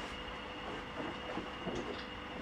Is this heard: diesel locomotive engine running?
yes